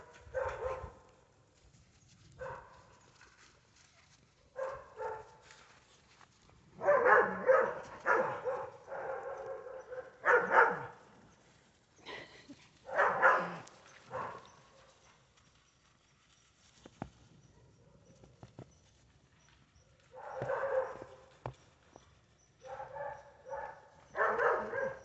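A house pack of dogs and pit bull puppies give bursts of barking and yapping at a moderate distance, separated by quiet gaps with faint shuffling.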